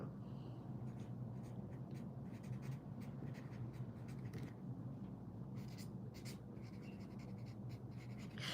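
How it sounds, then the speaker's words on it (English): A Sharpie marker writing on the back of a piece of artwork, a continuous close scratchy squeak of strokes at steady volume over a low background hum. "I write on the back, and it is just fine."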